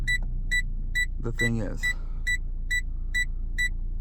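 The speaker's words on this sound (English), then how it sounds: "it will beep and show us the warning sign, and the beep actually changes according to how close you are" An aftermarket parking sensor on a reversing car gives a steady run of short, evenly spaced high beeps, a little under two per second. Someone speaks briefly over them.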